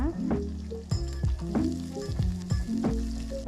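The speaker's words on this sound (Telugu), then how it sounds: "ఉల్లిపాయ ముక్కలు కరివేపాకు కచ్చా పచ్చా దంచి పెట్టుకున్న ఆరు వెల్లుల్లిపాయలు వేసి వేయించుకోవాలి" Chopped onions, curry leaves and crushed garlic fry in oil, a close sizzle layered with recurring low, humming tones and periodic clattering stirs.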